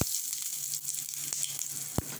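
Mustard seeds, urad dal and asafoetida sizzle in hot oil as a tempering for a pirandai chutney, a close hissing crackle with scattered pops and one sharp tap.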